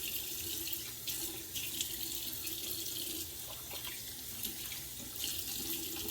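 Tap water running into a sink while rinsing after a shave, a steady close splashing stream with slight shifts as hands move under the flow.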